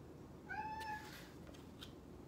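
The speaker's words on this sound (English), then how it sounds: "Sorry, that's my cat going." A domestic cat meows a few times, faint and indoors, the calls clear against a quiet room background with no speech.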